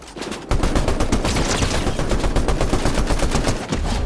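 Rapid automatic gunfire in the battle royale game Fortnite, a dense, loud, continuous stream of shots lasting several seconds with no talking.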